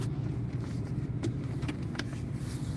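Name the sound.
truck driving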